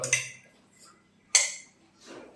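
Two sharp metallic clinks of a spoon knocking against a cooking pot while stirring spinach avial, spaced about a second apart, with soft rustling between them.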